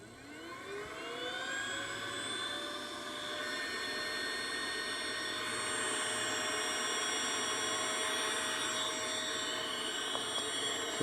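A VAC TRAC vacuum tool for tractors blowing air out, a loud steady whine that rises in pitch as it spools up over the first second, then holds a sustained turbine-like drone.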